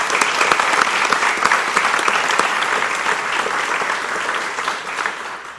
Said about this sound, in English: So you guys deserve a round of applause.